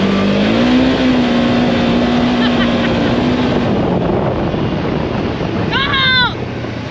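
Polaris RZR 1000 side-by-side engine held at full throttle, a loud sustained roar with rising pitch along a wooded trail, heavy wind buffeting the microphone and a brief squeal near the end.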